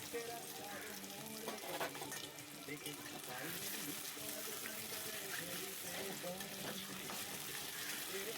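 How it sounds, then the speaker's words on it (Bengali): Small cut potatoes frying in hot mustard oil in a wok, a steady soft sizzle with occasional stirring scrapes, fairly faint and even throughout. "একটু ভালো করে আলুগুলোকে ভেজে নেব।"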